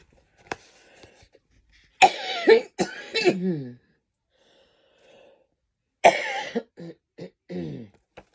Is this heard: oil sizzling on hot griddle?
no